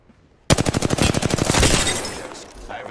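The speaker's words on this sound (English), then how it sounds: "I am taking fire, friends." A rapid burst of automatic gunfire in an action video game: about twenty close, loud shots in quick regular succession, then a fading rumble after near silence.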